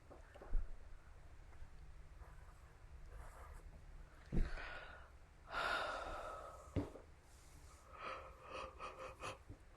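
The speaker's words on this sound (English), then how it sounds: "that was a big yawn" A long, breathy yawn with gasping inhales and a drawn-out exhale, close and quiet, with small breaths before it.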